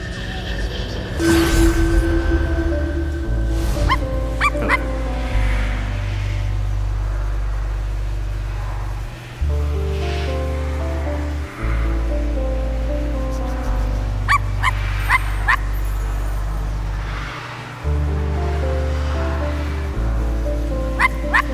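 Dog barks and small whimpers in the video game I Am Dead, scattered short yips over a steady low musical drone, fairly close and moderately loud throughout.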